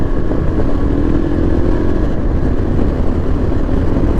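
A 2024 Yezdi Adventure motorcycle pulls in third gear at low speed, a loud, close, continuous engine drone with a rough thumping pulse and steady wind noise.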